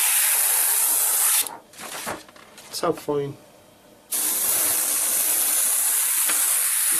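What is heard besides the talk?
airbrush spraying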